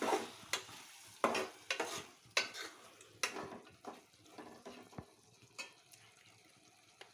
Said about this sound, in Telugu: బాగా కలుపుకోవాలి ఒక 1 మినిట్